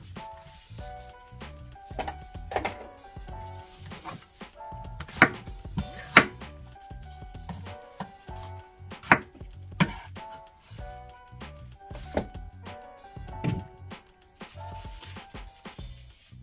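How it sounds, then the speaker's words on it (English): Knife chops food on a cutting board in steady, uneven strokes, each a sharp close thud with a few louder knocks, no talking. "You can use the board and cut them up, which I'm gonna do"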